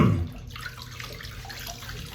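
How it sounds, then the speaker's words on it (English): Straight razor rinsed under a running tap, a steady splashing stream of water close by with a brief louder burst at the start, no voices. "let's rinse this thing down"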